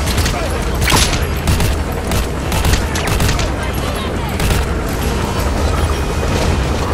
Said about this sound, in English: Ow, who the hell shooting at me?